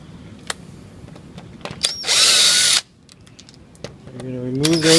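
A power drill backs out screws from the corner pivot of a casement window during a crank retrofit. It gives a short loud whir, then a pause, then a rising spin-up whine, with scattered clicks between.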